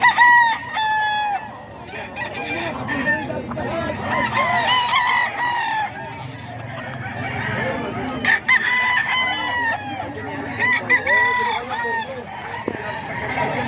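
A stag gamecock crows repeatedly and loudly nearby, its long calls overlapping with other crowing roosters and some clucking, with someone talking over the birds at times.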